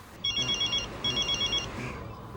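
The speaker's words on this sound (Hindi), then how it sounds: "वो संडे की सुबह थी जब उसका फ़ोन आया।" A telephone rings in a movie scene, two bursts of electronic trilling bell tone with a short gap between them, loud and close over a faint background.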